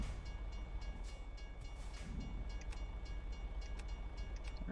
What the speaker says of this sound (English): train coming that way, but that's no issue for us